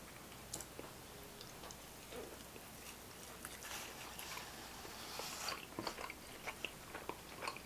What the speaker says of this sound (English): I'm just going to bite one now.